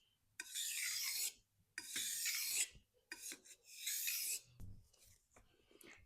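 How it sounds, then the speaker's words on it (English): A knife edge being honed on a wet whetstone, four or five long, close rasping strokes separated by brief pauses, each stroke a bright scraping sweep with no talking. "now we're going to hone in that edge to get that nice razor sharpness that we're looking for."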